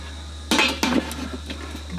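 A metal camp oven lid set back down onto the pot on a small gas burner, two close metallic clanks and a scrape over a steady low burner hum.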